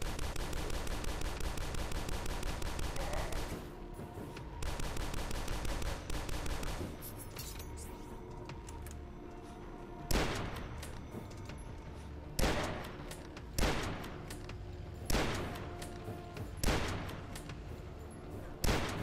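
Hunting rifle shots in the DUSK video game, fired against enemies on rooftops: a sustained loud burst of fire, then single sharp cracks spaced a second or two apart, each trailing off, with no voices.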